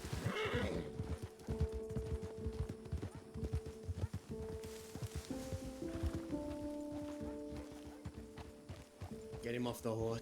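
Horse neighing and clip-clopping hooves in the Red Dead roleplay game, whinnies sounding near and loud over hoofbeats, with voices talking and tonal music-like notes running underneath.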